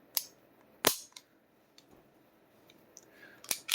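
Trigger reset clicks of a Springfield Garrison 1911 pistol come as a few sharp, isolated metallic snaps close by, spaced irregularly, with quiet handling noise between them.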